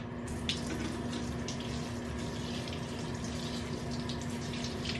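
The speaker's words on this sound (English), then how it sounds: "I'm gonna rinse off these little clips that were in my hair." Tap water runs steadily from a faucet into a sink while small hair clips are rinsed, a constant close splashing wash with no talking.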